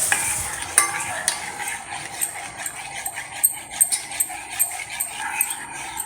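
A spoon stirs milk powder into liquid in a metal vessel, with steady rhythmic scraping and clinking against the sides. The sound is close and alone, with no talk.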